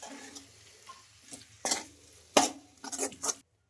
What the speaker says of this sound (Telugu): ఇప్పుడు ఇలా మొత్తం బాగా కలిపేసుకుందాం